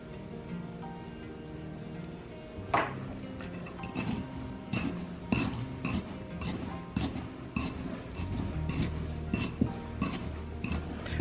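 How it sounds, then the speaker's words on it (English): A spoon clinks and scrapes against a bowl while vanilla flavoring is stirred into a dessert-roll mixture, with irregular taps and knocks and no talking. "I'll mix this together very well"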